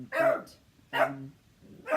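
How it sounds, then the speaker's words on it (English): Dog barking indoors, three loud separate barks spaced about a second apart, close to the microphone with no other sound between them. "That was the door going and the dog barking"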